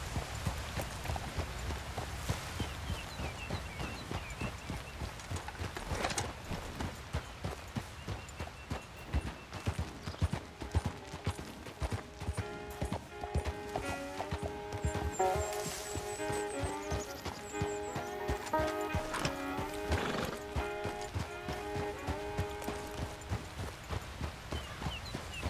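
Horse hooves clip-clopping at a steady pace in the Red Dead Redemption 2 video game, continuous rhythmic thuds under music and ambient sound, with a brief voice calling to the horse.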